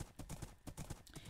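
Horse hooves clip-clopping in Minecraft, a quick steady series of close hoof clops, about eight to ten beats, heard alone without talk.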